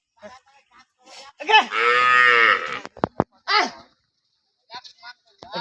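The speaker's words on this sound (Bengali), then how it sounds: "এই যে দেখেন অনেক গরু এই গরুগুলি যাচ্ছে" Cattle being herded out to graze near the India–Bangladesh border: a loud, drawn-out moo rises over nearby outdoor voices, with brief clicks and other talk around it.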